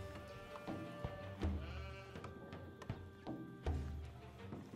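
Sheep bleat repeatedly in the Age of Empires IV strategy game, several wavering calls spaced across the stretch amid soft game sound effects and clicks.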